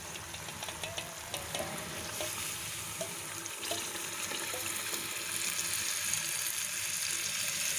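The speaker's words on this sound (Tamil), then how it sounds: "புளி தண்ணியாக விட்டுடலாம்." Tamarind water poured into a pan of Tamil vepampoo kara kuzhambu, the curry base of chilli powder and turmeric, giving a steady watery splash and sizzle that builds and broadens over several seconds, with no talking.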